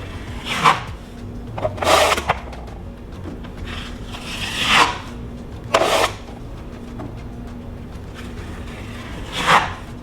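Putty knife spreading and smoothing filler over dog scratches in a wall: short scraping strokes in irregular bursts, close and fairly quiet, with gaps of near silence between passes.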